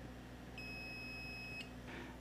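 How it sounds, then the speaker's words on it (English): A multimeter gives a steady continuity-test beep for about a second as its probes confirm a ground connection, a clear electronic tone heard alone over faint background hum. "for the ground, to make sure it's connected, it will produce a continuous beep"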